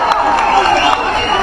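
Crowd cheering and clapping at a political speech by Kamal Haasan of the MNM party, a loud, sustained wash of applause and shouts with no break across the short stretch.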